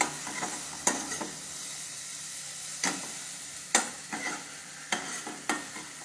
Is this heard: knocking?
no